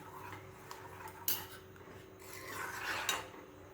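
Grated coconut being stirred into rice and jaggery kheer, quiet rasping scrapes of a spoon against the pot with a couple of sharper clinks, close and faint with no talking.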